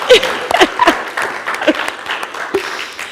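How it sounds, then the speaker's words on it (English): A church congregation claps for a staff member during a Sunday service, with scattered, uneven claps and bursts rather than a full roar and a few voices underneath. "So let's clap for her."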